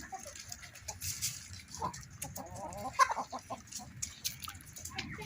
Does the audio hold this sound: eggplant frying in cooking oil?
no